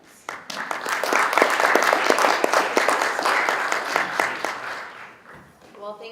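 Audience applause at a sustainability and energy conference session, a steady wash of many hands clapping that swells quickly, holds for several seconds and fades out. A voice starts speaking at the tail.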